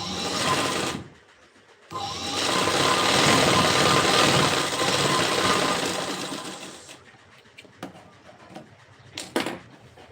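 A sewing machine stitches tucks on a boat neck blouse in one loud, steady whir of about five seconds, with short pauses and faint handling clicks before and after.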